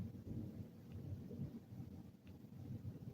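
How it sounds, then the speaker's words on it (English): Distant rolling thunder rumbles low and steady through a storm, with rain softly falling in the background; no one speaks. "I still hear the thunder."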